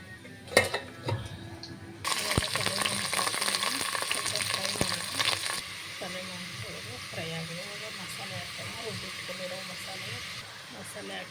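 Onion and mutton fry in oil with masala in a pot for a head-meat curry, a steady sizzle with sharp clatters of stirring early on, the frying continuing at a lower hiss as someone talks.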